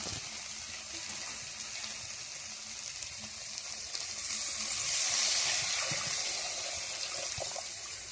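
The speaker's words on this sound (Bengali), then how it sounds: "এবারে দিয়ে দেবো জল" Water poured into a pan of lightly spiced fried potatoes, a continuous close hiss and bubbling sizzle that swells briefly in the middle before settling back, with no talking.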